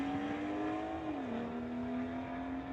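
A 2017 BMW and a 2018 BMW drag racing at a street-legal event, heard as a steady engine drone that drops slightly in pitch partway through, moderately distant and continuous, with no talk.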